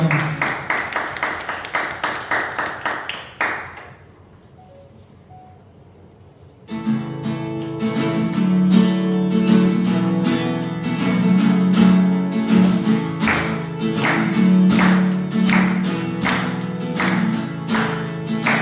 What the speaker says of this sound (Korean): 우리의 빛으로 비추시는 주님께 영광의 박수 올려드립니다.